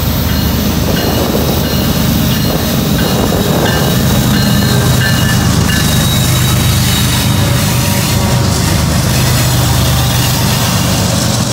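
A CSX mixed manifest freight train pulls hard, heavy engine roar and continuous rail rumble filling the scene, loud and near without a break.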